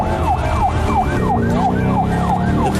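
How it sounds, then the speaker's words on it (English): Emergency vehicle siren wailing loudly in a steady, repeating up-and-down sweep, with the hum of road traffic underneath and no talking. "I hear another emergency vehicle"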